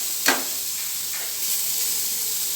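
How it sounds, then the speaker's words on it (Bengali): Grated raw papaya hits a hot, dry kadai with one sharp initial sizzle and hiss, then settles into a faint, steady crackle with a softer second hiss; no voices. "কাঁচা পেঁপেটা কড়াইয়ের মধ্যে দিয়ে দিলাম।"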